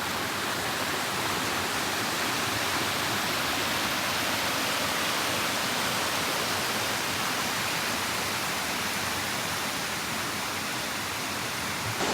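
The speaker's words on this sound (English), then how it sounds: "So I have to cross over the waterfall." A waterfall on a forest hiking trail in White Mountain National Forest roars in a loud, unbroken rush heard close up for the whole stretch, with no talking.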